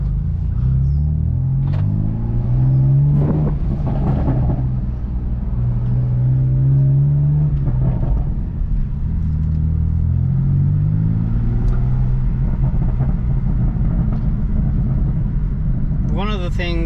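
BMW F80 M3 engine idling and revving gently while warming up, kept under about 3,000 rpm, a loud rumbling drone that rises and falls with someone talking over it throughout.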